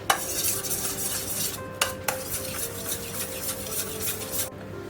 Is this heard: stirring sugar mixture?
yes